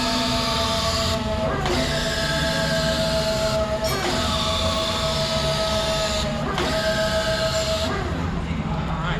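A CAT-Mitsubishi FBC18N electric forklift runs its side shift, giving a steady motor whine with three brief clunking transitions as the carriage starts and stops; tonal hum throughout with no talking.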